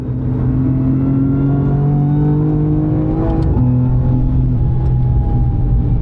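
A loud Schirmer M2 and G87 development race car engine drones steadily and close on the Nürburgring, its pitch climbing gradually as it revs, with a brief shift partway through.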